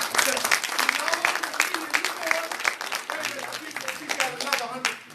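Audience applause at a Nation of Islam town hall fundraising meeting, steady dense clapping filling the room for several seconds, with voices talking over it.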